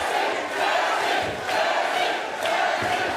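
A boxing arena crowd roars and cheers as a fighter rallies them, a dense, loud wall of voices surging in waves that swell roughly every second with no clear speech.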